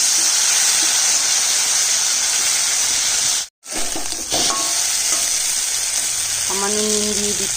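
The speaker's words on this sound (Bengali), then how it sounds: "পটলও ভাজা হয়ে গেছে, এখন মশলাটা দিয়ে দিব। মৌরি, আদা আর কাঁচা লঙ্কা বাটা।" Sliced pointed gourd sizzles loudly in hot oil in a pan, a dense steady frying hiss, briefly cut off as the fennel, ginger and green chilli paste goes in, then resuming with faint stirring scrapes.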